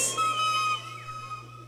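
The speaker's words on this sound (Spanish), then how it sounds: "Véngase chiflido los varones." Several shrill whistles from men in a concert crowd ring out together over a low crowd murmur, strongest in the first moment and then thinning out.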